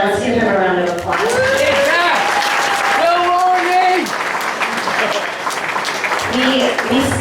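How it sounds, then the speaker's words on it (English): An audience at a general meeting applauds a campaign manager, with dense continuous clapping lasting several seconds while voices talk and call out over it. "let's give him a round of applause"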